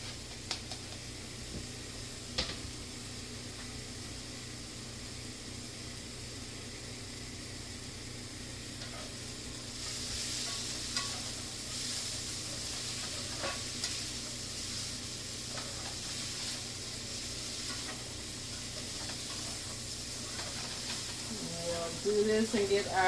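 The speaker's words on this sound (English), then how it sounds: "we'll go in with our onions and vegan sausage" Onions and vegan sausage frying in grapeseed oil make a steady, close sizzle with occasional stirring clicks, and the sizzle grows slightly louder partway through.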